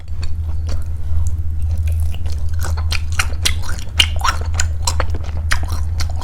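Close, steady chewing and biting on gwamegi, the dried herring and saury of a winter eating show, with soft crunches and wet squishes repeating over a low constant hum.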